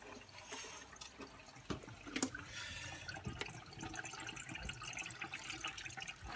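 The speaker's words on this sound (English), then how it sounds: "So you twist that and it drains into your sink, which is quite good." Water drains from a Joseph Joseph wash and drain washing up bowl into a kitchen sink, a steady close trickling and gurgling with small drips, heard alone.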